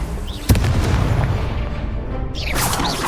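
A Confringo blasting spell in the wizarding game Hogwarts Legacy goes off with a sudden loud boom, followed by a rumbling, crackling tail and a second swelling whoosh near the end.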